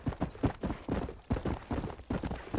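Horse hooves clip-clop in steady rhythm in the video game Red Dead Redemption, a continuous close galloping patter that is loud and unbroken, with no voices over it.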